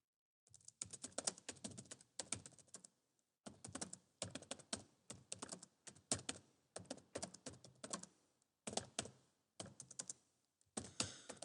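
Fingers type an email on a computer keyboard, quick close bursts of key clicks in bouts of one to two seconds separated by short pauses, with no talking.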